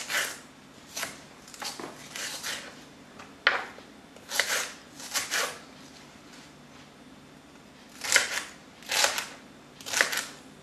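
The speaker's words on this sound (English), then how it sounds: "now I'm gonna cut celery" Knife chopping celery for buckwheat soup with ribs, heard as irregular bursts of crisp cuts, several quick chops grouped together with pauses between, close and fairly quiet with no talking.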